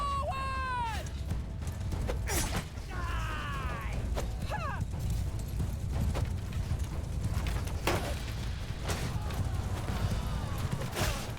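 Cavalry horses thunder forward in a Mount & Blade II Bannerlord battle with Sturgian forces, a steady clatter of hooves mixed with creaking gear and distant battle noise at moderate volume.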